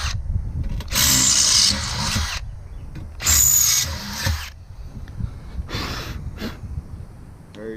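A power drill with a 1/4 inch bit bores through metal on a Honda Rancher snorkel install, with two loud whining bursts of about a second each separated by pauses, followed by shorter, fainter bursts.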